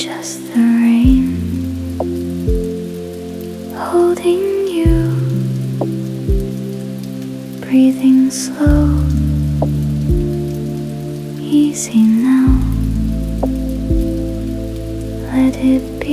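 Steady rain patters on surfaces on a Tokyo night, a soft continuous wash with scattered drops, while a gentle, slow voice speaks calmly over it throughout.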